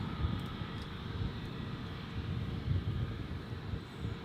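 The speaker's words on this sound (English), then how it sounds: "So this is our Jetstar A321neo now lining up" A Jetstar Airbus A321neo airliner lines up on the runway at Gold Coast Airport, its engines a steady, fairly distant low rumble and hiss that holds level throughout, with no voices.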